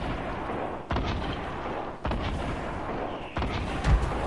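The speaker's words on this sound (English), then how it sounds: "He literally shooting at us" Gunfire in a multiplayer shooter video game, three sharp, moderately loud shots spaced about a second apart over a steady background of game noise.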